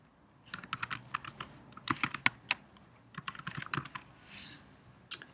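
Rapid bursts of computer keyboard typing while a title is entered, clustered keystrokes with brief pauses and a final isolated tap, close and crisp with no voices.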